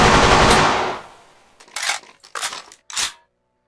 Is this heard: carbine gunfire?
yes